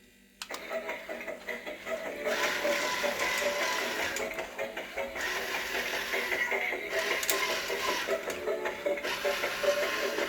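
A JIA-QI TT903 Robokid toy robot dancing, its small motors and gears whirring and clicking in bursts with brief pauses, faint music and a voice in the background.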